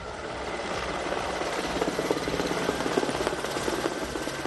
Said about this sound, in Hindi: वायुसेना के हेलीकॉप्टर मंडराए और फूलों की बारिश की